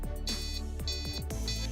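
Arduino piezo buzzer signalling an RFID tag access-denied event: a few repeated electronic beeps in quick succession, thin and moderately quiet, with no voices.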